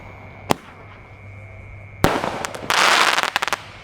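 A sharp pop, then a sudden burst of crackling Roman candle fireworks with a rapid series of loud cracks and hissing, close and intense.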